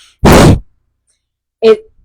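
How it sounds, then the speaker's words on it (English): Two short, forceful bursts of air blown through the nose, the first a strong noisy huff, the second briefer with a faint nasal tone, separated by silence. "you're going to forcefully exhale out of your nose"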